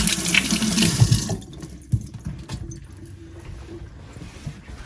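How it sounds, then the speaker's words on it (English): Hands rinsed under a running kitchen tap, water splashing loudly at first, then dropping to quieter trickles and a few clinks for the rest. "I'm going to rinse my hands off."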